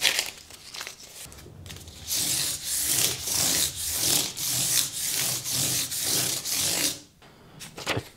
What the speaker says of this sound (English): This is 800 grit sandpaper, I think.